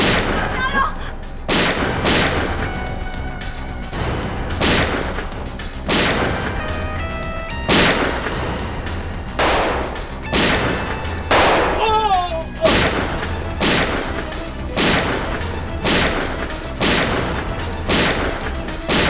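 Gunfire in a Hindi TV crime drama's hostage rescue, sharp loud shots cracking out one by one at irregular intervals over tense background music, with brief voices between.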